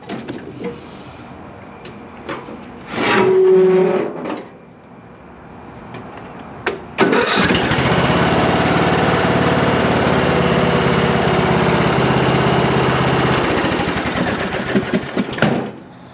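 A tow rig's engine cranks with a short grinding burst, falls quiet, then fires up and settles into a steady, loud rumbling idle for about nine seconds before cutting off.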